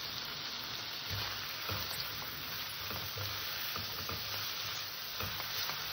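Spice paste sautéed and stirred in a pan with green chillies for a fish, potato and aubergine curry, a steady close sizzle with repeated scraping strokes of the spoon, no voices.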